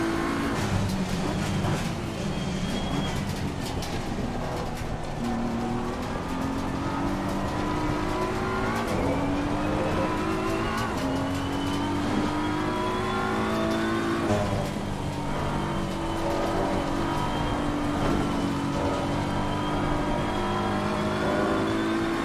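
Race car in Assetto Corsa Competizione, its engine droning steadily and rising in pitch through the gears, with occasional tire scrub and squeal, loud and continuous throughout.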